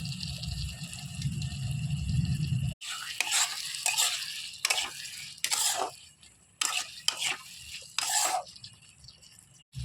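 Ghugni made with goat fat, goat meat and peas being stirred in a pan: a steady low sizzle gives way to repeated scraping stirs in irregular bursts, close and moderately loud with no talk.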